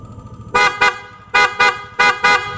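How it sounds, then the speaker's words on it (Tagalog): Three pairs of short, loud PIAA dual horn honks on a Yamaha NMAX V1 scooter, each a quick double beep, sounding close and standing alone over a low engine rumble. "Ayan o, loud horn."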